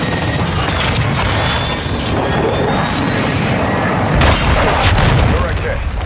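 A cruise missile strike in Call of Duty MWII produces a loud, continuous roaring boom with a rushing jet-like whine and a swelling blast near the end, with voices heard beneath it.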